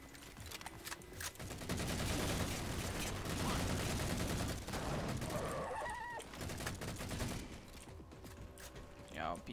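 Rapid assault rifle fire from Halo keeps up in dense, loud bursts over clanking mechanical game effects, thinning out briefly near the end before a final sharp blast.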